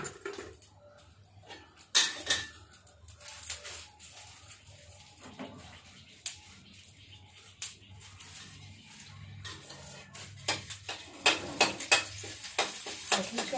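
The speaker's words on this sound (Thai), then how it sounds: "ใส่น้ำมันลงไปค่ะ เราจะผัดเผ็ดถั่วก่อนค่ะ" Spicy beans are stir-fried in oil in a pan. Faint scraping and sizzling are broken by sharp clinks of a utensil against the pan, growing busier toward the end, with quiet room sound between.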